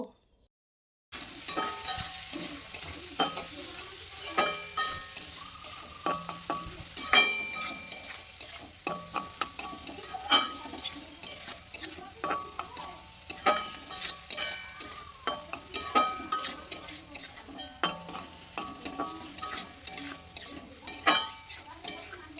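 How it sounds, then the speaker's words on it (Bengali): Chopped onion fries in a pan on low heat. A utensil scrapes and stirs in repeated, uneven strokes over a soft, steady sizzle, with no talking. "পেঁয়াজ কুচিটা দিয়ে সুন্দর মতো একটু নাড়াচাড়া করে লাল লাল করে ভেজে নেব।"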